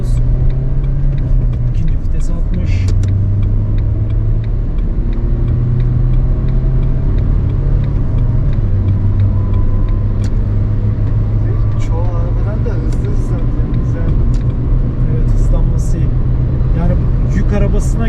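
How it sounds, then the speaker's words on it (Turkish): An Opel Vivaro Bi-Turbo panel van with a 1.6 engine of 145 hp drones and rumbles loudly from inside the cabin during a top-speed run, its engine note rising and shifting steadily, with people talking over it. "şimdi son hız testimize geçiyoruz yine motor performansına"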